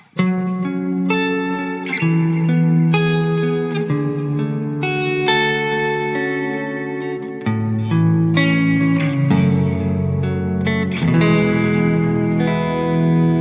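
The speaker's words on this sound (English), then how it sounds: "I can test the compressor with my delay and reverb to see how that sounds" Electric guitar through a compressor pedal, delay and reverb, plays sustained chords and melodic phrases, heavily compressed with echoing delay and lush reverb, alone without any talking.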